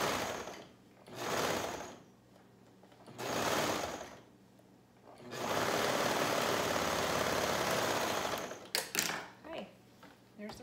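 Sewing machine stitching a ruffle onto a shirt, running in a few short bursts and then one longer steady whir, with quiet handling noises at the end.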